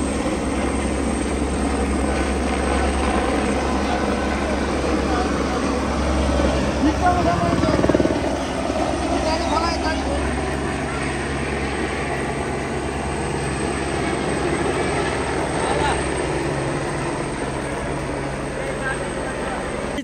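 An army helicopter flies over a flooded area, its rotor throb loud and steady throughout, with a voice talking beneath the engine roar.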